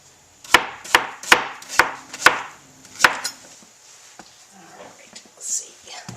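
A knife slicing vegetables into quarter to half-inch slices on a wooden board, about seven sharp, evenly spaced chops close up, then softer handling noises as someone talks quietly.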